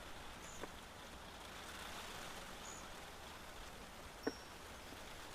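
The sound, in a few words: rain pattering down in Shizuoka Prefecture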